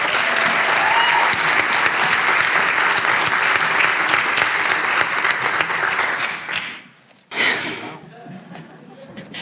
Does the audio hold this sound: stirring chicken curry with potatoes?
no